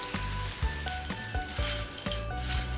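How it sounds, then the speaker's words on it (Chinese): Small dried fish are stir-fried in oil in a pan with chili, giving a steady crackling sizzle with regular scraping strokes of a spatula, close and continuous. "之后再加入小鱼干，快速搅拌"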